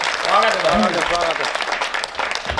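An audience at a Hindi humorous poetry performance breaks into a burst of applause, a dense wash of clapping that runs under a voice at the start and then continues on its own.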